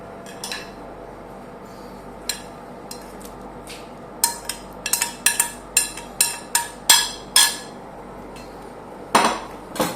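Green chili being stirred into a pot of Sri Lankan fish curry, a series of sharp metallic clinks and taps from the spoon against the pot, sparse at first and then coming in a quick, rhythmic run.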